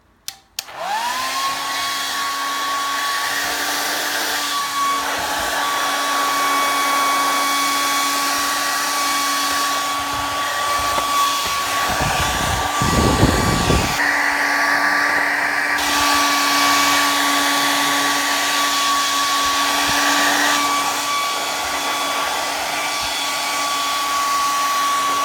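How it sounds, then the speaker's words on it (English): A hair dryer runs steadily at close range on a PlayStation 4 console, with a constant high whine and airy roar, briefly shifting in pitch and tone partway through as it is moved. "So I'll wiggle the hairdryer once I'm done."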